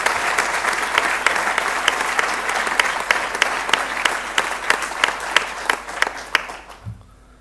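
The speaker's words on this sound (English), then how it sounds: "give a very big applause to all our student volunteers" A large audience at a Shift Project keynote gives sustained, loud applause for student volunteers, dense clapping that thins into scattered individual claps and stops near the end.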